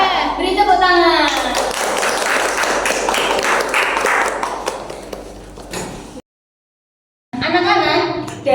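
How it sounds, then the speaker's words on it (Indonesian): Schoolchildren in a fourth-grade classroom clap together in a loud, dense burst lasting several seconds, mixed with chatter and voices. A short silence follows, then talk resumes. "Beri tepuk tangan."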